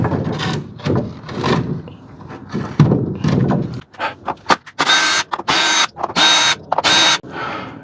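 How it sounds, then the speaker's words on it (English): Hinge hardware worked loose from a wooden front door jamb: scraping and knocking mechanical sounds, then a run of loud, sharp ratcheting bursts in quick succession, close up, with no talking. "I have to take the actual hinge off the door jamb."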